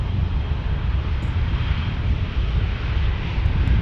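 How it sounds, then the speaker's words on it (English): A United Boeing 737 on approach to San Diego airport: a steady broadband engine roar, loud and continuous, slowly swelling toward the end with no talk. "United is coming here. Watch out for the 737."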